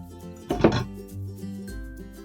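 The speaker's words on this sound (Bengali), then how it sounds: "গ্যাস অন করে কড়াই বসাবো" A kadai (wok) is set down on a gas stove with a single short metallic clunk and a brief rattle, over a steady background of tonal music.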